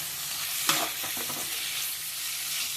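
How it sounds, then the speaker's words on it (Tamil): Mutton liver frying in a pan, Hyderabad style, is stirred with a spoon, giving a few scraping strokes over a soft, steady sizzle. "இப்போ வந்து கலக்கிக்கோங்க."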